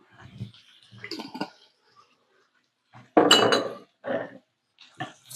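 Kitchen items clattering while cooking spaghetti with meat sauce, a few scattered clinks of dishes and cutlery, then one louder sharp crash of something dropped, followed by smaller knocks in an otherwise quiet room.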